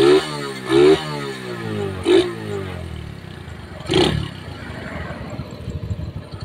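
A Honda Win 100 motorcycle engine, just fitted with a new piston after a fault that kept the spark plug wet, is revved hard in several sharp bursts over a steady idle, close by.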